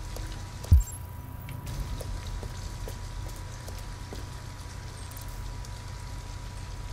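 Soft, steady rain falls outside an abandoned house in the video game Detroit: Become Human, a constant low patter with a single dull thump early on.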